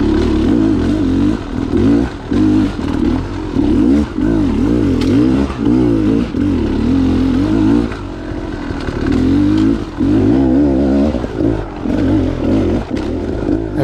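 Dirt bike engine on a steep trail descent near Wrentham, loud and close, the throttle blipping and revving in repeated surges as the clutch is let out and eased, with a rough clattering idle between bursts.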